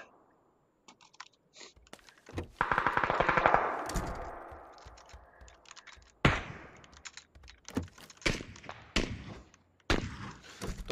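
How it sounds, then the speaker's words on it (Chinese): Gunfire rings out in a shooting video game, with bursts of rapid automatic fire and scattered single shots alongside sharp clicks and thuds, loud and close at irregular intervals. "子弹来了，OK"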